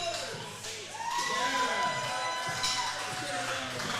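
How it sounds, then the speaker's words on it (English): A crowd at a powerlifting meet applauds and cheers for the spotters and loaders, a steady wash of clapping and shouts under a commentator's voice. "And the crowd applauding the spotters and loaders, as is rightfully so."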